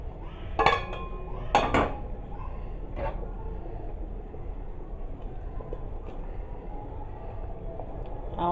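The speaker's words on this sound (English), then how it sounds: "I'm now going to be adding my crayfish inside the pot" Crayfish going into a pot of African white soup, with two sharp metallic clanks early on, then a fainter knock and a low rumbling background.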